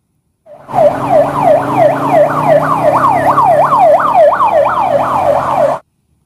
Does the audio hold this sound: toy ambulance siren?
yes